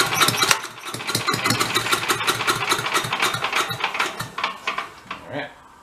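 A small 8HP engine on a vacuum unit cranks and catches with the choke on, running loud and ragged up close with uneven knocking bursts before it drops off at the end.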